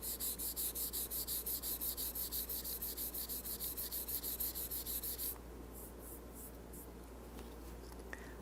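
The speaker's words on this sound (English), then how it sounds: "I'll take a couple swipes with the 800 grit sandpaper just wrapped around my fingers" Strips of 800 grit sandpaper wrapped around fingertips rub across a guitar's curved finish in quick regular back-and-forth strokes for about five seconds, then stop, leaving a steady low hum with faint handling noises, close by.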